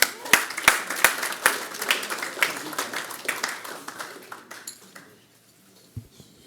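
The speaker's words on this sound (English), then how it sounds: "let's please give her a big round of applause" An audience applauds for CEO Jane Pappin as she is welcomed to speak at a health pop-up event, with dense clapping that is loudest at first and tails off to near silence by the end.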